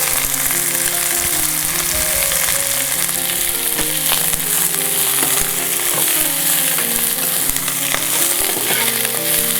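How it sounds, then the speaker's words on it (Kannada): Onions sizzling in a pan, fried while making curry leaf chutney along with mint; a steady, loud, continuous crackle and hiss throughout, with tonal music running underneath and no talking. "ಸ್ವಲ್ಪ ಈರುಳ್ಳಿಯನ್ನು ಕೂಡ ಫ್ರೈ ಮಾಡಲಿಕ್ಕೆ ಬಳಸೋಣ"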